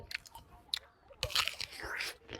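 Someone bites into and chews juicy jujube fruit in a Bangladeshi orchard, with sharp crunches and wet smacking bursts up close, separated by brief pauses.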